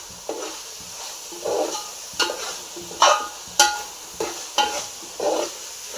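Ingredients mixed in a bowl with a spoon, a series of separate scraping, clinking strokes, about a dozen in an uneven rhythm, close and fairly quiet against a near-silent background.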